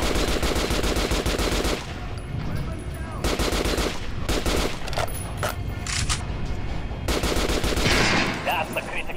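Gunfire in the Metro Last Light video game aimed at an armored target, heard as loud rapid bursts of automatic fire separated by short pauses.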